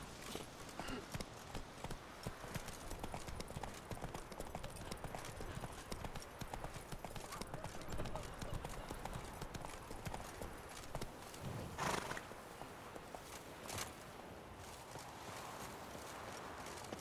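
Roach, a horse in The Witcher 3, gallops with rapid, continuous hoofbeats at a fairly quiet level, with a whinny among the rhythmic clatter and no speech over it.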